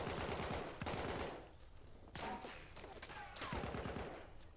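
Gunfire in Battlefield 1 on the Sinai Desert map, loud rapid automatic bursts in several clusters with short gaps, sharp rattling shots close by.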